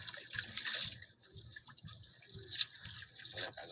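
A tap runs with a weak flow, producing a faint, uneven trickle and splashing that comes and goes in soft bursts, quiet and close with no talk over it.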